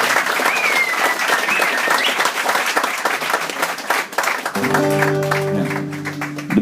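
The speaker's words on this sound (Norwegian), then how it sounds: "Så jeg vil at vi skal gi en varm applaus for Tynnerkoret" Warm applause from an outdoor Constitution Day crowd for a choir, dense steady clapping that fades as instruments strike up a sustained band chord near the end.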